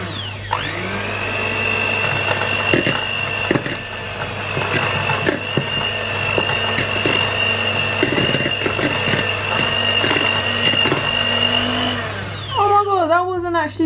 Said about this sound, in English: Right, I've got my trusty old whisk.